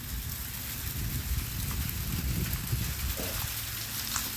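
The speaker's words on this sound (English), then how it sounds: "Or really small hail, whichever way you look at it, but it is raining ice." Sleet or very small hail falling outdoors on a cold morning around 19 degrees, a steady dense hiss and patter with no breaks, fairly loud and unbroken by talk.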